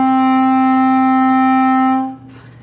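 Clarinet sustaining the note Re, a single steady reedy tone held about two seconds before it stops, close and clear with no talking.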